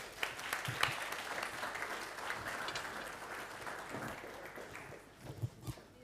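An audience at an e-mobility industry event clapping to welcome a panel, a dense steady wash of applause that carries on for several seconds before thinning slightly at the end.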